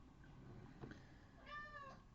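A cat meows once, faint and slightly distant, a short rising-falling call in a quiet indoor room with soft background hiss.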